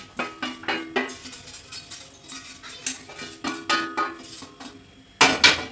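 A metal utensil scrapes and taps against a pan, breaking up a fried egg, in a quick, uneven series of close, clattering strokes, with no talking.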